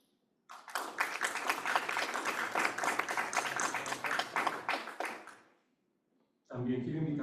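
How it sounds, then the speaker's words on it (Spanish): An audience at a panel on fracking movements applauds a community action founder: a burst of dense crowd clapping rises abruptly, holds steady for about four and a half seconds, then fades to silence before a voice begins speaking. "Un aplauso para él."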